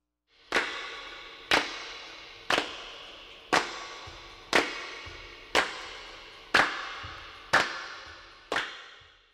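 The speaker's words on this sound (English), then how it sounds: "And that sound is being sent into the echo chamber of the studio to add the nice distant reverb effect." Hand claps fed into a studio echo chamber for a distant reverb effect on a recording: ten sharp, evenly spaced claps, one about every second, each trailing off in a long, bright reverberant decay.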